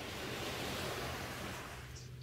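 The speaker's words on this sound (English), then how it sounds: "Enjoy the ever-repeating rhythm of the waves." Ocean waves washing up onto the shore and drawing back, a steady soft broadband surf wash that fades slightly toward the end, heard alone with no voices.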